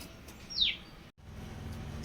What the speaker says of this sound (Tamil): நம்ம காக்கா பையன் கத்திட்டு இருக்கான்